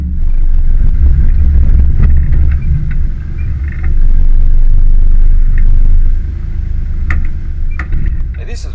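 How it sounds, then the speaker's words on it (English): A 4WD vehicle crawls slowly down large, crossed-up rock ledges on a Yalwal bush track, its engine giving a loud, close, deep rumble that swells and eases as it works over the rocks. "you crawl down the large crossed up rock ledges"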